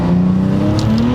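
A Cadillac ATS-V with a twin-turbo V6 accelerates hard, its loud, close engine note climbing steadily in pitch, with a couple of sharp hissing bursts near the end.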